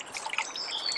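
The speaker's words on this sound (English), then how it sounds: "The sound of trickling" Water trickling in a river, a soft continuous bright splashing and babbling close by, with no voices.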